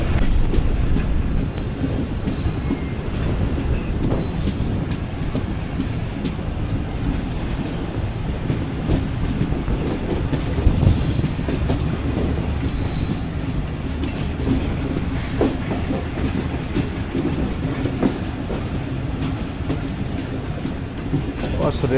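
Passing train on a railway line near Sialkot, Pakistan, with loud wheel squeal, rumbling wagons and clickety-clack sounding close and continuous, while someone talks faintly at times.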